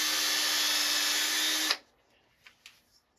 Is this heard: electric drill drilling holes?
yes